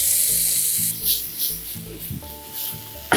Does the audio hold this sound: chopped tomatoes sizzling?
yes